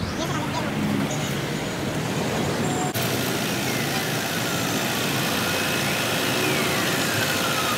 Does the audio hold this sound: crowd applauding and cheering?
no